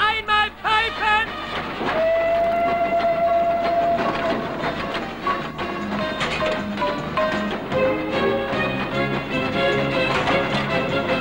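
Whistle blown on a moving train in an Italian western: sustained whistle tones sound over steady rumbling, clattering wheels for the whole stretch, loud and continuous, with no talk.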